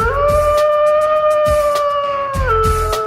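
Wolves howling in long, steady sustained tones that hold pitch and then drop, loud and close, with fainter overlapping cries beneath.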